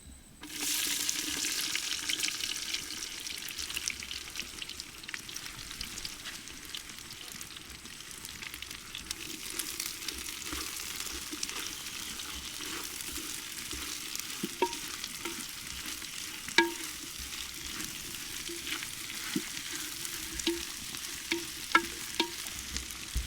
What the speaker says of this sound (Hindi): तेल गरम हो गलानी। एबे हम पियाज पकेबा।